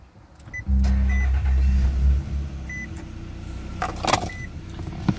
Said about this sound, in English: Push the start button just below there